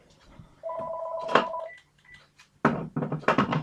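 An incoming call sets off a phone's electronic ringtone in one bright tonal burst, followed by a short pause and then louder choppy broadband sounds.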